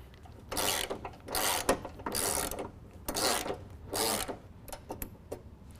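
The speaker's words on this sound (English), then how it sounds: "we can use our ratcheting wrench and finish taking them out" A ratcheting wrench backs out bolts on a 2017 Ford F-250 while a bull bar is fitted, with several bursts of rapid close clicking separated by short pauses.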